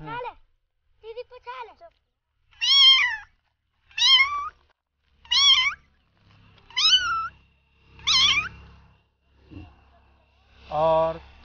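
A person imitates a kitten's meow in a series of repeated high, drawn-out mewing calls with short pauses between them, close and clear against a quiet background.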